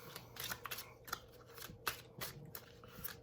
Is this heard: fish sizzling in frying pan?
no